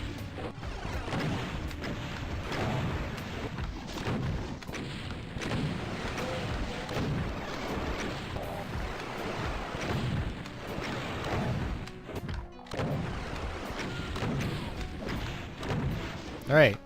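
Super shotgun blasts and explosive combat in DOOM II on Xbox One, heavy booming shots and crashes packed densely and continuously at high volume, with someone talking over the game action.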